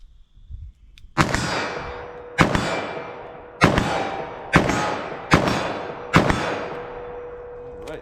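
Winchester lever-action rifle firing .357 Magnum rounds outdoors, six sharp loud reports spaced roughly a second apart, each followed by a ringing decay, with brief handling noise before the first shot.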